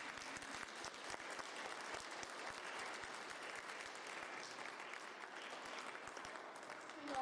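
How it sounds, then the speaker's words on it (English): Steady applause from an audience at a League of Women Voters candidate forum, many hands clapping densely and evenly throughout, with no talk over it. "They need a round of applause."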